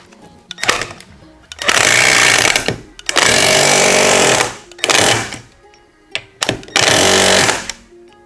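A Milwaukee C12 PN-0 cordless palm nailer drives nails into wood, giving several loud, sustained buzzing hammer bursts of one to two seconds each, separated by brief pauses, heard close up with no talking.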